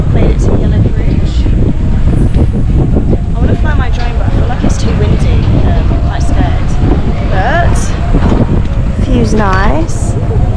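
Strong, steady wind roars and buffets the microphone throughout on an island lookout at Nusa Penida, Bali, with a faint voice and a few higher squeaks partly masked underneath.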